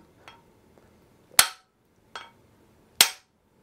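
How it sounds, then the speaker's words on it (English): A 1.5-pound copper hammer strikes the web of a 2017 KTM crankshaft to true it: four sharp metallic blows, two light and two hard, spaced about a second apart in an otherwise quiet workshop. "with a hammer I hit the other one. So I'm using a copper hammer."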